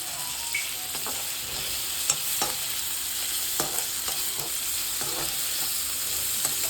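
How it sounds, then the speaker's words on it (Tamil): Onion and tomato sauté in a pan for an instant chutney kulambu, a steady close sizzle with scattered scraping stirs of a spoon against the pan throughout, no voices. "நல்லா தக்காளி குழைய வதங்கணும்"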